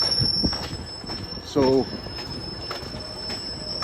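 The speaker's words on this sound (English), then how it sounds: "I don't even know where this train's going because it's obviously heading west." A train rolling through near Toronto's Union Station toward Liberty Village, with a brief high wheel squeal standing out over the steady rumble while a voice speaks faintly.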